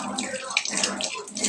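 Tap water runs steadily into a kitchen sink while a tea cup is rinsed, a loud close splashing gush with shifting spatter throughout.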